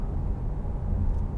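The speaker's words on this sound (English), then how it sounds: "all you can hear is just a gentle purr of the engine" A 2015 Audi RS4 Avant 4.2 TFSI with S tronic quattro cruises on a smooth road, its engine a steady, gentle low rumble with road noise and no talking.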